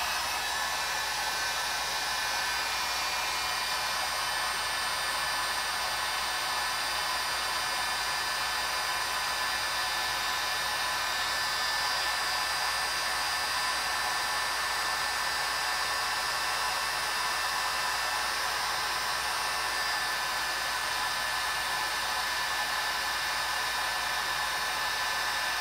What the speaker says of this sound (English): My heat gun on the highest setting.